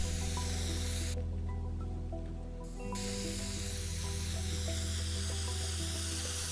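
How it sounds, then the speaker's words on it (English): A spray can hisses continuously in Teardown, a loud broadband spray lasting a few seconds then cutting off, over sustained background game music and hum. "So let's spray can that too"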